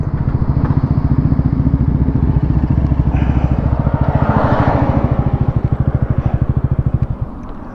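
A Bajaj NS400z and a Royal Enfield Continental GT650 drag racing, loud close engines roaring with a dense rapid pulsing that holds steady, then rising pitch through the middle, with no talk.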